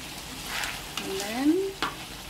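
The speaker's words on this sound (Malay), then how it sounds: "baru saya masukkan apa panggil tu, terasi, belacan. Belacan ni just masuk dia, jangan kacau lebih-lebih" Belacan shrimp paste frying in chili paste in a pan, a soft steady sizzle with a few stirring scrapes and clinks, fairly quiet and without talk.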